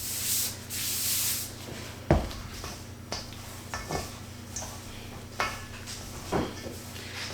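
Gloved hands mix sweet potato biscuit dough in a well of flour. Close, soft rubbing and squishing continue throughout, punctuated by a few sharp knocks against the bowl, with no talking.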